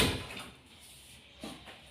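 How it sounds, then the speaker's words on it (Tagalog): A door is pulled shut indoors with a soft, short thud partway through. It is faint and stands alone against quiet room noise. "sasara ko lang po ang pinto"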